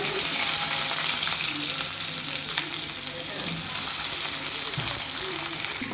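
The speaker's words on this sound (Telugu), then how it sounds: "పోపు కొంచెం వేగినాక కట్ చేసి పెట్టుకున్న ఆనియన్స్ వేసుకోవాలి" Chopped onions sizzle and fry in a pan of hot tempering made with urad dal, a steady dense crackle filling the clip with faint stirring, close and loud.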